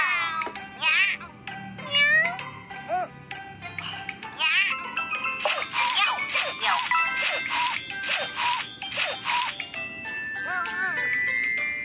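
Several high-pitched cartoonish fairy-kitten meows repeat over a bright, chiming melody with tinkling effects from a kitten-care video game.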